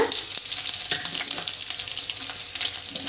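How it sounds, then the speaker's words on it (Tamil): Onions sautéing in hot oil for Tamil-style tomato thokku give a loud, continuous sizzle that stays close and steady throughout, with faint stirring underneath. "போட்டு நல்லா வதங்கட்டுங்க."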